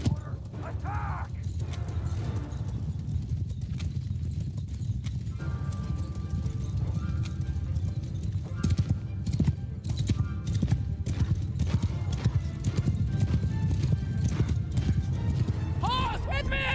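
Galloping cavalry horses in a Warhammer battle game, dense clip-clop hoofbeats with occasional neighs and whinnies, loud and continuous amid battle noise and shouted voices.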